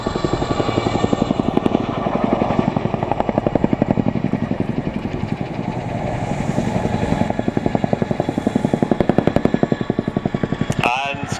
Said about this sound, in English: taking the Chinook skywards into the Gorney corkscrew, rotating and climbing to 800 feet